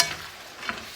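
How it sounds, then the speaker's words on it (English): Cashew nuts and spring onion stir-fry in a hot pan, a brief soft sizzle with a light scrape of stirring near its middle. "And I'm gonna add some cashew nut and spring onion together. And keep stir fry for 2 or 3 minutes."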